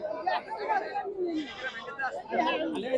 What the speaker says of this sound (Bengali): খাসি ছাগল আমার পাশেই রয়েছে